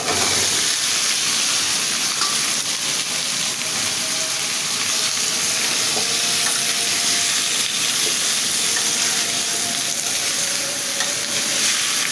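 Papaya pieces frying in oil with a cooked spice paste in a pan, a loud continuous sizzle with steady hiss and light stirring throughout, no voices.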